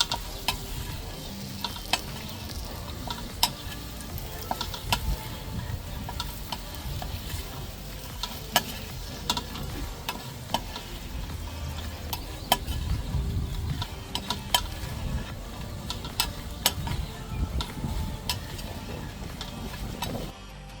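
Spices are stirred into potatoes frying in a pan, a continuous close sizzle broken by repeated sharp scrapes and taps of the spoon against the pan, with no talking.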